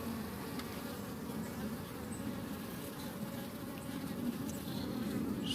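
A close, unbroken drone of honey bees fills the air around hive frames during smoking, steady and even throughout with no talking.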